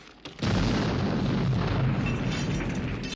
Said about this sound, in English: Great explosion.